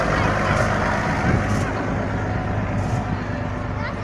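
Tractors roll in at a country show parade, their engines producing a steady low rumble with occasional higher mechanical whines, close and continuous, under talk.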